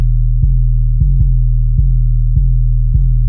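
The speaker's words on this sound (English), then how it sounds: "Then in the drop we have this 808 that plays at the same time as the kick." Booming 2016 808 bass hitting together with a kick in the drop, heavy low sustained notes struck six times in an uneven pattern, loud and solo.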